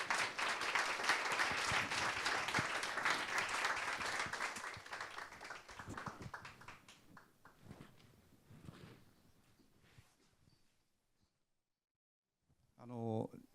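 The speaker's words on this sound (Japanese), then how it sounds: "もう一度お二人に拍手をよろしくお願いいたします" An audience claps for two performers at a traditional-arts-meets-techno event, dense applause that is loud at first, thins and fades by about ten seconds, then a voice speaks briefly at the end.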